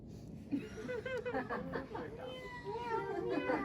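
Several voices imitate a cat's meow in overlapping, drawn-out calls, with a chuckle mixed in, fairly close and steady throughout.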